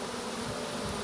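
A honeybee swarm issuing from a hive and circling overhead makes a dense, continuous buzz of many bees, steady and fairly close, with no voices.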